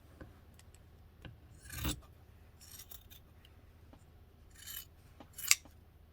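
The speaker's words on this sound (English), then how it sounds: "I'm going to cut into my stitching" Scissors cutting through the stitching of a quilted fabric book cover, a few short separate rasping snips and scrapes with quiet pauses between them, heard close up.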